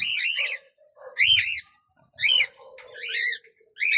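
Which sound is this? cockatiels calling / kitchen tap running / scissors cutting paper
cockatiels calling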